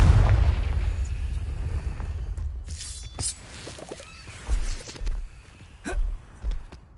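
Confringo fire spell going off in Hogwarts Legacy, a loud low boom at the start that rumbles and fades, followed by a few softer thuds and crackles later on.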